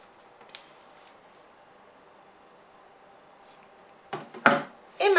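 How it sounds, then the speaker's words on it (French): Scissors snip the corners of a sewn clear fabric phone pouch, a few faint early clicks followed by louder crisp cutting sounds close by near the end, with no talk. "je prends mes ciseaux et je découpe comme ceci mes angles"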